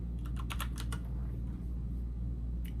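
Quick keystrokes on a computer keyboard at a music production desk, a burst of close, crisp clicks early and a few more at the end over a steady low electrical hum.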